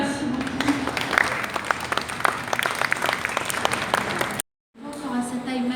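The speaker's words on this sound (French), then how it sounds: "On peut l'applaudir." Audience applause at a mechanical amusement park show in Nantes, a dense, steady patter of many hands clapping close by for several seconds, breaking off abruptly before a murmur of crowd noise and voices resumes.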